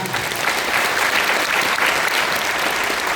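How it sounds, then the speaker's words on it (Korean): A conference hall audience gives loud, dense applause welcoming religious leaders at a peace music talk concert, sustained clapping filling the room without a break. "큰 박수로 환영해주시면 감사하겠습니다"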